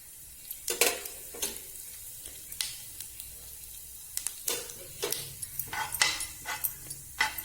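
Cumin seeds, bay leaves and cloves sizzle in hot oil, a soft steady fry broken by scattered crackles and pops as the seeds splutter, faint and close with no talking.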